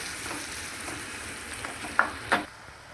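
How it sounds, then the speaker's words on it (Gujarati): Chopped onions sautéing in butter and oil with cumin in a pan, a soft continuous sizzle with two sharper clinks of a spoon against the pan near the end. "અને થોડીક વાર માટે સાતળી લઈશું આપણે આવી રીતે"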